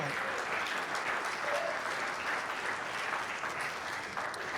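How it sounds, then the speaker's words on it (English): An audience at an in-person sales community event gives a round of applause, a steady, moderately distant roar of many hands clapping that carries evenly for several seconds. "Can we have a round of applause, please?"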